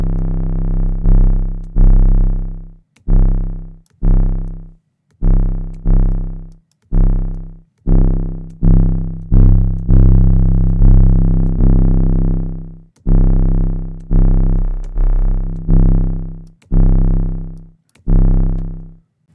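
Punchy synthesized 808 bass notes made in Sytrus with an EQ boost on the low end, played loud in a steady rhythmic pattern of short and sustained hits, each note decaying, with no voices.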